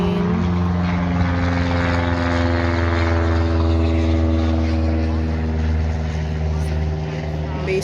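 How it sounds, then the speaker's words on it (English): A propeller airplane drones overhead, loud and steady throughout, above a hilly meadow with a lake and houses nearby. "Airplane."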